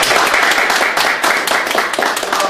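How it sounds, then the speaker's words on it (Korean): A lecture audience gives loud, steady applause to a guest speaker after a long talk on capitalist economics, with dense, continuous clapping throughout and no speech over it. "다시 한번 큰 박수 부탁드립니다"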